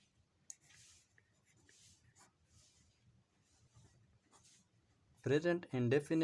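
Chalk writing on a classroom board during a grammar lesson on direct and indirect narration, a soft intermittent scratching in short strokes, with someone speaking Hindi loudly near the end.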